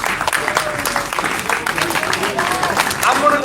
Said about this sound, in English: So please give a round of applause to our really awesome host today.